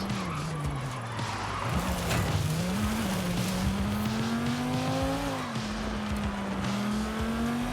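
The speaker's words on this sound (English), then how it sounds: "I'm not entirely certain what engine we're running, but it does sound really nice." A Vision N car engine in Forza Horizon 5 drones steadily at high speed, with pitch slowly climbing and dipping through gear changes and hints of tire squeal, loud and continuous throughout.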